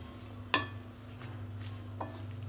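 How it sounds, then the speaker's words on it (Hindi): Chicken being mixed with spices in a bowl, heard as a single sharp clink of utensil against the bowl followed by soft, quiet stirring and a faint second tap. "अब हम इन तमाम स्पाइस को अच्छी तरह मिक्स करेंगे"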